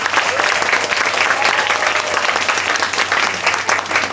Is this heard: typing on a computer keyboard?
no